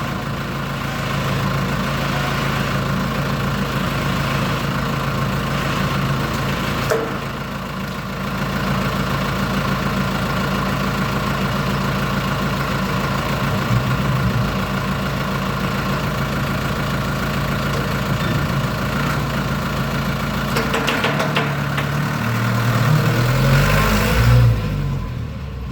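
A medium truck's engine idles steadily and close, a continuous low rumble that stays even throughout, with a slight rise in revs near the end.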